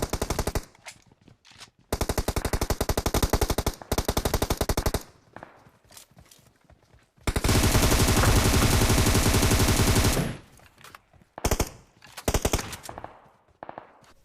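Automatic gunfire in the mobile game PUBG Mobile, loud rapid bursts of shots separated by brief gaps, including one long sustained stream of fire and a few short volleys near the end.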